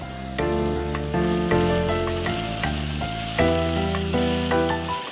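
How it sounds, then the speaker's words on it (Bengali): Sholka greens hit a hot pan and are stirred, a loud, close sizzle that swells in bursts as the leaves are turned, with clattering utensil strokes and music playing underneath; no one speaks. "এবং এই শাকটা দিয়ে দিচ্ছি, এখন একটু জালটা কমিয়ে নেড়ে দেব।"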